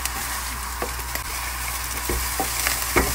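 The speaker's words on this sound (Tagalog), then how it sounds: "Hanggang sa umamoy yung tomato paste, halo-haloin natin para hindi siya masunog." Tomato paste sizzling in a hot pan while being stirred, a steady frying hiss with light scrapes and taps of the spoon, close and even, no talking.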